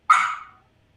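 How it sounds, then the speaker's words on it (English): A dog gives one short, sharp bark close by in an animal-friendly indoor setting, loud and alone, fading within about half a second. "that's my dog."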